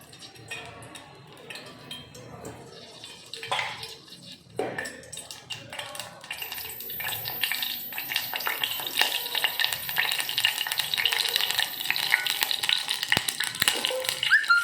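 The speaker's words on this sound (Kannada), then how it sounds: "ಒಗ್ಗರಣೆಗೆ ಎಣ್ಣೆ ಕೊಳತೀನಿ ನೋಡ್ರಿ" Hot oil for tempering begins to crackle and sizzle in a pan, building into a steady, dense frying hiss over the last several seconds, with faint utensil clinks.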